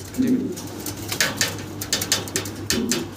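A male Black Mundian pigeon coos in a pot nest, close and clear, with a couple of low rolling coo phrases and some faint rustling around them.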